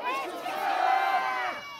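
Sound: crowd shouting in chorus at a rally

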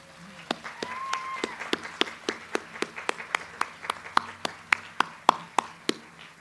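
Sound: round of applause at college commencement

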